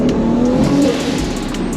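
A loud single-turbo Toyota Supra engine revving steadily and close by under an underpass, a continuous throaty roar with rising and falling pitch, with wastegate dump.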